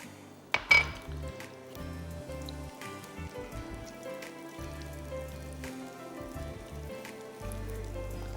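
Raisins frying in a pan, a soft, steady patter of sizzling with a few light clinks of a utensil, one brief louder knock near the start, no voices.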